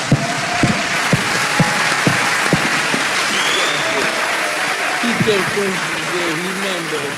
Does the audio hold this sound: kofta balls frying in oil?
no